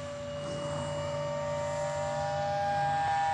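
Electric ducted fan RC model of a JAS-39 jet, fitted with a 2-kilowatt motor, whines steadily with a high sustained tone as it comes in to land, the steady sound rising slightly and staying close throughout.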